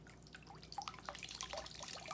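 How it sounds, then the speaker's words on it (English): Water drips from a handmade bamboo cloth into a special bowl, sounding as soft, irregular plinks and small splashes, quiet and close, with no talking. "Even just the sound of water"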